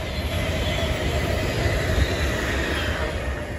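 An Avanti West Coast Class 390 electric train passing through Bletchley station, a loud, steady rushing roar of wheels and motors with a faint high whine, continuous and close throughout.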